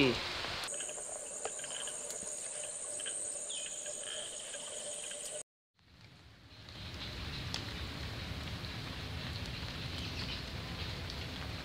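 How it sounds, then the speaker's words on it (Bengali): Steady rain falls outdoors in a soft continuous wash with insect-like chirring above it, interrupted by a brief silent cut before the rain noise resumes evenly. "এখানে খুবই বৃষ্টি হইতাছে"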